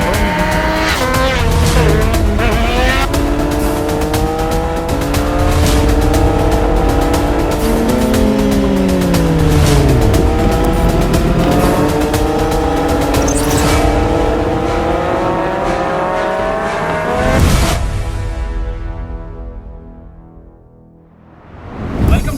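Two Triumph Street Triple 765 motorcycles, an R and an RS, in a drag race, engines screaming loud and close through rising gear-change sweeps and revving, ending with a quick fade and a short final burst.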